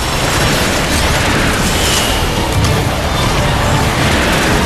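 Covering gunfire in a Transformers: Fall of Cybertron battle, a dense, loud wall of continuous shots and booming bursts with no pauses and no voices over it.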